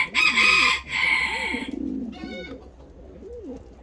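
Ottoman Hünkari and Boğma Hünkari breed pigeons coo close by in soft, throaty rolling calls repeating through the clip, joined early by loud bursts of broadband noise and rustling.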